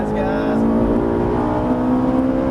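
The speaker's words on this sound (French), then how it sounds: "On accélère un peu. C'est parti. Allez, on prend du régime." Ferrari 458 accelerating on the Circuit Haut Saintonge, a loud, steady, high-pitched engine whine that climbs in revs, heard close from inside the car.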